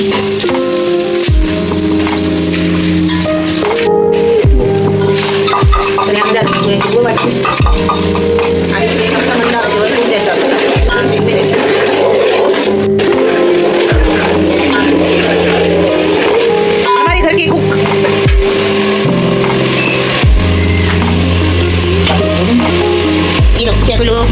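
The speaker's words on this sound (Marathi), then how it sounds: "फ्राय केलेला कांदा टाकूया" Fried onions tipped into a biryani pot set off a steady, loud sizzle, with repeated sharp clanks of a spoon or ladle against the vessel at irregular intervals.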